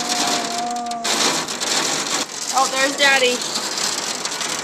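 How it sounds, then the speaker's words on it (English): Hail falls outside on a rainy day, a dense, loud, steady patter and rattling of stones striking surfaces, while a child and an adult talk over it. "Look, it's hailing."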